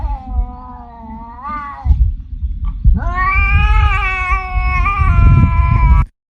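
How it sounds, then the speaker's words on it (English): A cat yowls loudly and up close in distress, letting out long, wavering caterwauls that rise and fall in pitch, with a brief pause between two drawn-out cries. "when a cat is in distress or in a fight or something, they'll make that noise"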